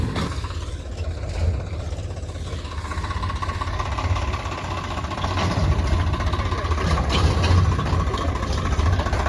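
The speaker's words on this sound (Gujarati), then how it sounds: "આ ટ્રેક્ટર જ કરશે હવે" A tractor engine idles with a steady low rumble, growing slightly louder partway through, no voices over it.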